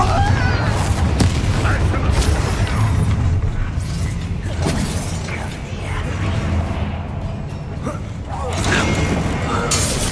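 A Confringo fire-blast spell in the Hogwarts Legacy game, a loud rumbling burst with booming impacts over a dense layer of combat noise and music, with a voice shouting the spell.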